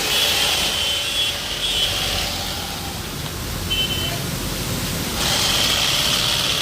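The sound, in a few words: machine sewing a rice sack shut at a rice mill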